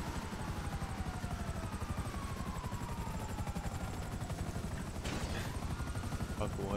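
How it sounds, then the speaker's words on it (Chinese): A helicopter flies in the video game Grand Theft Auto V, its rotor chop pulsing steadily and fairly loudly throughout, with some voices talking over it. "我突然不会开直升机了啊！"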